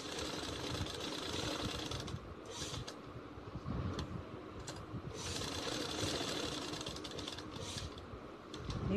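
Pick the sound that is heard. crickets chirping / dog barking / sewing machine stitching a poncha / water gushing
sewing machine stitching a poncha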